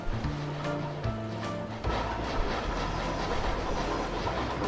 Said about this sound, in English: Alright, coal train going the right way.